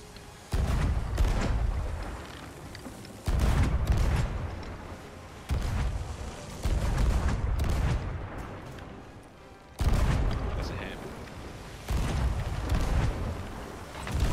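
Ship cannons on a galleon in the video game Sea of Thieves fire as repeated heavy booms, about six blasts spaced a couple of seconds apart, each loud and close with a rumbling decay.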